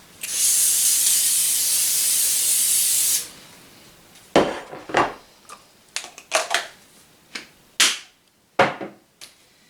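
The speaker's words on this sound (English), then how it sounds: "I'm actually going to pre-spray the dish so it's easy for us later." A long, steady hiss of cooking spray onto a baking dish runs for about three seconds, followed by a series of short scraping and clinking handling sounds.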